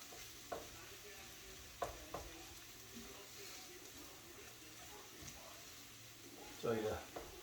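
Food in a pan is stirred with a quiet sizzle underneath, broken by occasional soft knocks and scrapes. Someone talks quietly over it.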